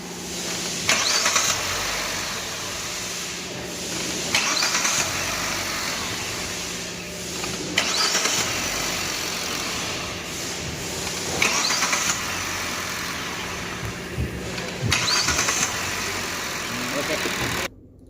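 A Hyundai i20 N Line with a late-starting problem is cranked and started repeatedly, about five times: each attempt brings a short burst of cranking that settles into an idling engine, recorded close up.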